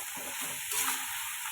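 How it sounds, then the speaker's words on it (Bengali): Sliced onions frying in oil with cinnamon until browned, a quiet, steady sizzle heard alone for a brief moment. "এবার পেঁয়াজগুলো ভেজে নেব"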